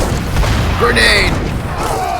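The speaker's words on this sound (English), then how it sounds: "Grenade!" A grenade explosion in a video game lands as one loud, muffled boom with a brief rumbling tail, set amid a busy game soundscape with scattered voices nearby.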